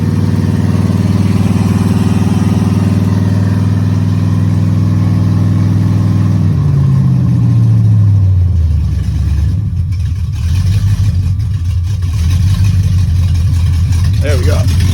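A Ford Galaxie muscle car with headers and a full 3-inch exhaust through Flowmaster Super 10 mufflers rumbles loudly up close, holding a steady rev before the engine note drops and settles into a deep idle, with a voice talking over it.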